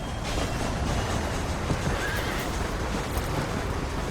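A horse in the Red Dead Redemption video game whinnies loudly and close, with hoof clip-clop underneath and a steady wash of game ambience throughout.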